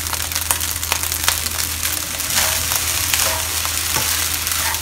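Shrimp fried rice being stir-fried after soya sauce goes in, a steady loud sizzle with repeated scrapes and clanks of the spatula against the wok.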